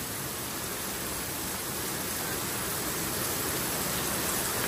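Heavy rain pours down in an Indonesian village near Jakarta, a dense, loud, unbroken hiss filling the whole stretch with no voices.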